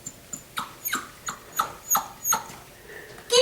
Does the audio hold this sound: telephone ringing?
no